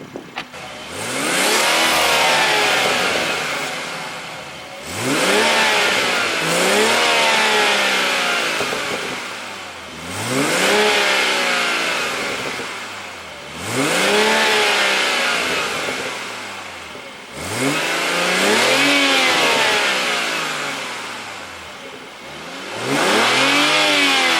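BMW M140i fitted with a Pipercross air filter, revving repeatedly with induction roar: five loud rising-and-falling rev sweeps, each climbing sharply then dropping back, close and alone with no talk.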